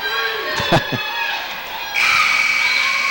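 Home crowd at a girls' high school basketball game, Union Hill Lady Bearcats against Magnolia, roaring in a gym after a big defensive stop; cheering swells abruptly to a loud, sustained roar after a few shoe squeaks and thuds.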